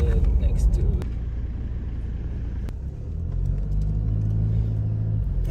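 A 4x4 vehicle crossing sand dunes on a tour at Sandwich Harbour in Namibia, its engine a steady, loud low rumble that swells again near the end. Speech is likely mixed in under the drone.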